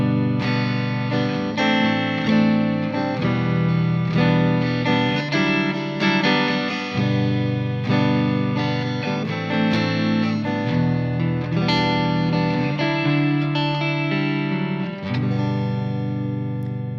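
Guitar in an alternate tuning with the first string detuned to D rings out open chords, strummed repeatedly in a steady progression with shimmering sustained notes, played solo and unbroken for over fifteen seconds.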